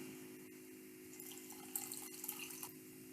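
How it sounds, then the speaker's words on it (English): Water poured from a container into soil to make a mixture, a soft trickling and splashing that grows a little louder partway through, quiet and close, with a steady hum underneath and no talking. "Now we're going to add in our water."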